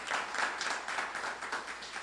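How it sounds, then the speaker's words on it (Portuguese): A church congregation applauds in a steady, moderately loud burst of clapping that fills the room for a couple of seconds, with no voices over it. "Se você quiser, aplaude mais forte."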